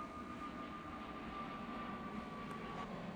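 An airplane passes overhead, a loud, steady broadband roar with a droning hum that fills the whole stretch.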